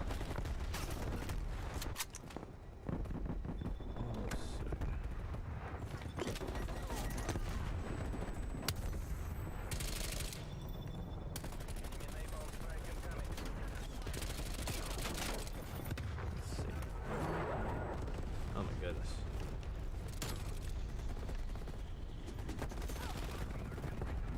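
Continuous gunfire in a Call of Duty match, an MP5 submachine gun among the weapons, with dense overlapping bursts and booms that carry on throughout, while a voice talks faintly now and then.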